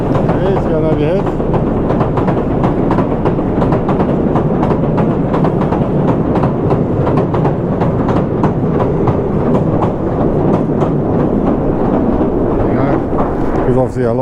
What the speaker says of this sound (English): I think this is a pier train coming over, as you can probably hear.